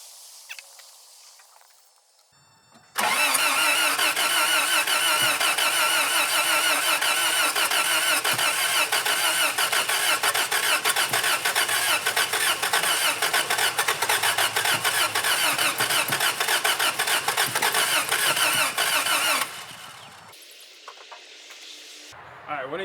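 A 1984 Toyota SR5 pickup, parked for 23 years, is cranked on its starter. The loud, rapid churning runs for about sixteen seconds without catching, then cuts off into near quiet.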